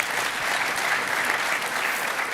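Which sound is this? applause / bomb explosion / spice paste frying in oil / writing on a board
applause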